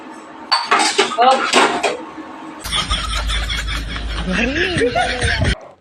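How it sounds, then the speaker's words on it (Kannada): Dishes, pots and pans are washed by hand, with metal clatter and scraping sounds close by, while a person laughs and chuckles over the noise. "ಹಳೆ ಬಟ್ಟೆ ಹಾಕೊಂಡು ಪಾತ್ರೆ ತೊಳಿತಾ ಇದ್ದೀನಿ"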